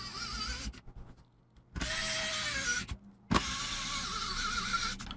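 A small electric screwdriver backs screws out of a Samsung NP350V5C laptop, three separate whirring bursts of about a second each, close and clear, with quiet pauses between.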